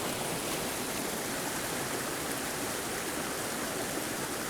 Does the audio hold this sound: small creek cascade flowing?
yes